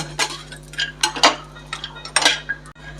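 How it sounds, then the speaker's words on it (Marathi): Dry dates roasted in ghee and stirred in a metal pan for dinkache ladoo. A series of sharp scraping and clinking strokes of a spoon against the pan comes in irregular bursts, close and fairly loud, with no talking. "त्याच्याकरता मी इथं ह्याच्यामध्ये तुपामध्ये भाजून घेते खारीक।"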